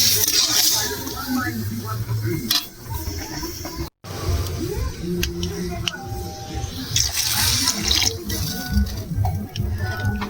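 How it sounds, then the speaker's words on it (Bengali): Water is poured into a pan of white ghugni with potatoes cooking, a steady splashing, bubbling pour close by with light clinks of cookware. "এবার আমি জল দিয়ে দেব। আলুটা সিদ্ধ হওয়ার মতো জল দেব"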